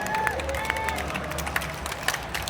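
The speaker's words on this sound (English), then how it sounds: "Give yourselves a round of applause." Crowd applause at Classic Game Fest during an Intellivision panel: steady clapping and crowd murmur that fill the room, with scattered sharper claps and a tonal hum underneath.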